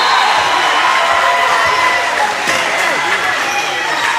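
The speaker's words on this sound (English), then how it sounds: "Southwestern crowd starting to get into it." Spectators at a high school boys basketball game between Southwestern and Somerset Christian cheer and shout loudly in a steady gym roar, with a basketball bouncing and commentators talking over it.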